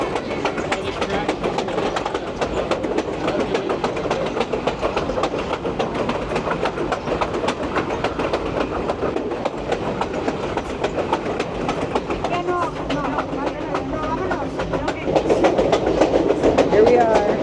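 A Grand Canyon Railway train rolls steadily along its track near Williams, Arizona, with a continuous clickety-clack rumble from the rear car that swells louder toward the end.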